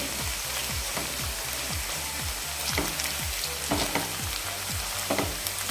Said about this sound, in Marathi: आता यामध्ये हिरवी मिरची जी वाटून घेतली आहे ती घालूया तीसुद्धा थोडीशी परतून घेऊया